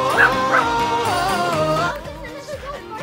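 A dog barks and yips in quick, close bursts with whimpering tones, loud at first and then trailing into softer whines toward the end.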